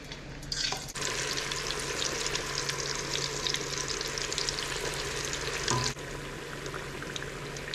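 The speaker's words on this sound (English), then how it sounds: "Have some oil warming up here." Battered fish frying in a pot of hot oil for fish and chips, a loud dense crackling sizzle that jumps up as pieces drop in and runs on steadily, close and without talk.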